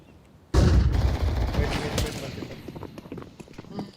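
Gunfire in Counter-Strike during a professional match, a sharp loud burst of shots followed by rattling echoes and scattered quieter pops, with faint voice chatter underneath.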